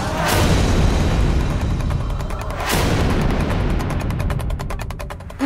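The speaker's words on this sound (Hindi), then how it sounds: "मीठी बाहर जाके पटाखे फोड़ते।" Diwali night firecrackers bursting outdoors, with two loud booming blasts a couple of seconds apart over a continuous rumble of distant crackling bangs.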